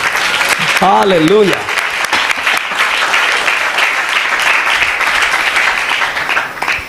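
A church convention congregation breaks into sustained, dense applause, loud and steady throughout. Someone briefly calls out near the start before the clapping carries on alone.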